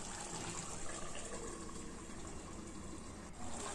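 A little water is poured into frying chicken lotpoti in a pan, a steady soft rush of liquid and sizzling hiss that runs quietly and evenly without any voices.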